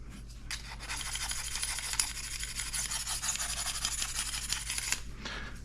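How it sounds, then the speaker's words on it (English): A vegetable peeler blade being honed like a knife: a continuous close metallic rasping and rubbing that lasts several seconds, then eases off. "You can hone them the same way you would hone a knife."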